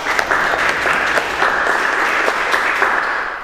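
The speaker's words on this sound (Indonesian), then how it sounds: "Tepuk tangan untuk kita semua ya" Steady applause from a classroom of students fills the room, a dense continuous patter of many hands clapping together at close range, with no talk over it.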